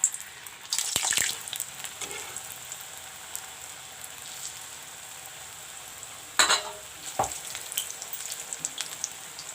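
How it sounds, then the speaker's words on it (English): Banana kofta balls frying in hot oil, a continuous fine crackling sizzle at close range, with a few sharper spitting pops and clinks along the way and no talk. "This way I will fry all the kofta balls."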